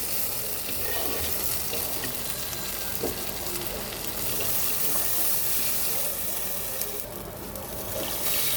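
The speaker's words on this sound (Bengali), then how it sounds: "এখন আমি দিয়ে দেব ঝোলের জন্য জল" Water poured into a pan of frying spice paste for a fish curry with potatoes and long beans, giving a continuous loud hiss and bubbling sizzle close by, with a brief surge near the end.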